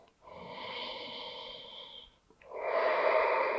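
Two long, close breaths taken during a seated shoulder stretch between the shoulder blades, a steady airy inhale followed after a brief pause by a louder, fuller exhale, with no talking.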